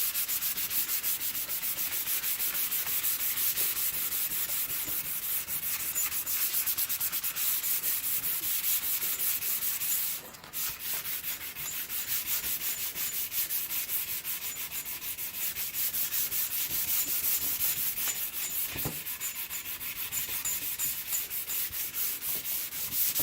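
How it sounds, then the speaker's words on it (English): A flat sanding pad rubs steadily over a primed skateboard deck, producing a continuous, loud, close, hissing scrape that runs without a break apart from one momentary pause. "You want to sand up to them, not over, because I don't want to take that down to wood"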